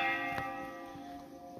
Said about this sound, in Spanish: las campanas no pararon toda la noche.